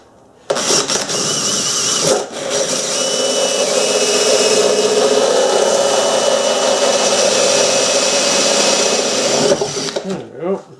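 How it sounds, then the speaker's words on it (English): A power drill bores a 1-inch hole through a plastic gutter downspout, a steady whining motor running for about nine seconds between a sharp start and a winding-down finish. "I'm going to drill a smaller hole. This is a 1-inch."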